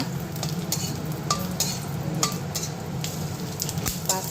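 Bay leaf, dried chili, five-spice, ginger and cumin sizzle in hot oil in a pan, a steady close frying hiss broken by a few light scrapes and taps of a spoon against the pan.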